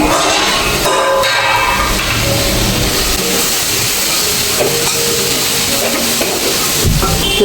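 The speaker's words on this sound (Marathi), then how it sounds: "अजून दोन मिनटं आपल्याला भाजी व्यवस्थित शिजवून घ्यायची अगदी थोडीशी भाजी आपल्याला थोडी करपून द्यायची खाली" Radish leaf greens cook village style in a pan, giving a steady loud sizzle and hiss that runs unbroken and close for the whole stretch, with faint stirring scrapes mixed in.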